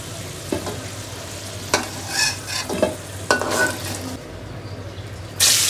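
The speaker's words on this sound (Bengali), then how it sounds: "কড়াইতে দিচ্ছি সাদা তেল। এখানে অল্প 2-3টে আলু আমি দিব। ওইটা আমি ভেজে নিব ভালো মতো লাল করে।" Potatoes frying in white oil in a wok for a khashir mangsho recipe, with a steady low sizzle under several brief stirring scrapes and clinks of a utensil against the pan, close and moderately loud.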